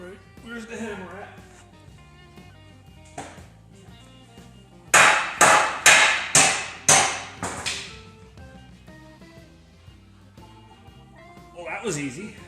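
Six loud hammer blows land in a quick, even series while taking apart a Ford F450/550 2wd front axle, set between stretches of music and brief talk.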